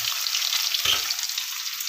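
Tomato and tamarind sauté in a pan for rasam, a steady close sizzle and crackle with a short stirring scrape near the middle, and no one talks.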